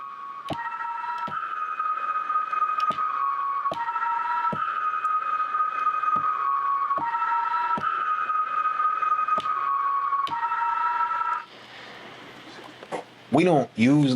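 A chopped, pitched sample beat with sharp percussive hits cutting through sustained tonal chords in a steady rhythm, ending in a warbling, wobbling tail.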